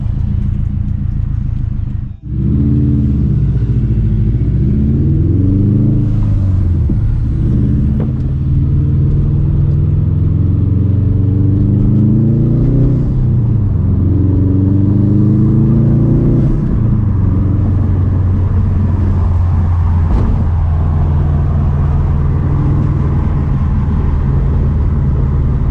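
A 2015 Subaru WRX STI Limited engine drives through city streets with a deep, steady rumble, rising in several revving pulls through the gears with brief dips at each shift, loud and close throughout.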